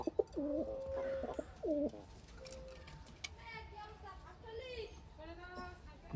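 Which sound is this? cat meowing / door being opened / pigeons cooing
pigeons cooing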